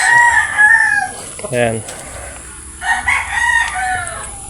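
Gamefowl roosters crow repeatedly in a small backyard pen, several loud nearby cock-a-doodle-doos with some clucking, while someone speaks briefly over them.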